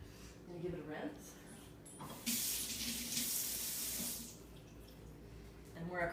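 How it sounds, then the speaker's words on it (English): Running tap water splashes into a sink as a crystal is rinsed, a steady rushing stream of about two seconds set between quieter handling noises, with a person speaking lightly around it. "I'm gonna give it a rinse."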